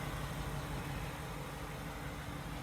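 A 1955 Mercury 100 pickup with a fuel-injected 4.6L engine idles steadily with a deep, continuous rumble, loud and close, with no voices over it.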